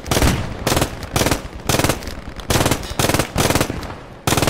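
Machine gun laying down suppressing fire in Squad 44, heard as a steady run of loud, rapid bursts in a regular rhythm, close and unbroken by speech.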